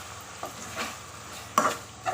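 Chopped tomatoes go into sizzling masala in a pan, with stirring scrapes and clinks over a soft frying hiss and a couple of sharper knocks against the pan.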